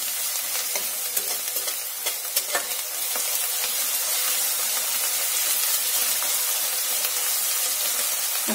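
Chopped onion frying with salt in oil for dal khichdi, a steady close sizzle with occasional stirring scrapes early on, continuous and fairly loud throughout, no talking.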